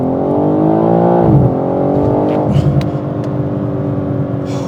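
BMW M3 Touring launching hard on a wet road with traction control off, engine revving up loud and close, then a brief dip at a gear change and a second strong pull, with no talk over it.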